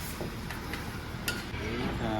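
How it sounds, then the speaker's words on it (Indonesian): Fried rice seasoning cooked fresh at a hotel breakfast buffet in Tawangmangu: a steady frying hiss with scattered utensil clinks and stirring scrapes, people chatting nearby. "Itu masak buat bumbu nasi goreng Kak."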